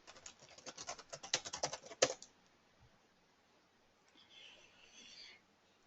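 Quick bursts of typing clatter on a computer keyboard, close and fairly faint, then stop, leaving a quiet room with a brief faint sound near the end.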